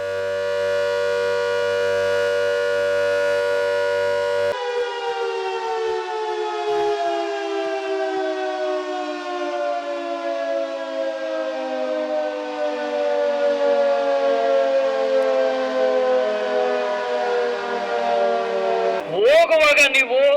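A civil defense air raid siren sounds during a drill in Bengaluru, a loud, sustained wail that holds steady, drops to a slowly falling tone and ends in a rough burst.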